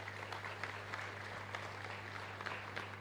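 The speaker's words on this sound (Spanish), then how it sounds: "A ellos también fuerte aplauso." Applause from the congregation at a Catholic Mass in a parish church, a soft, distant patter of many hands heard over a steady low electrical hum, continuous for a few seconds without speech.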